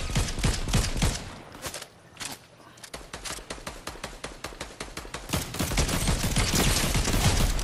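Rapid gunfire in a Fortnite Chapter 4 match, with dense sharp shots crackling almost nonstop, a brief lull partway through, then heavier sustained bursts up close.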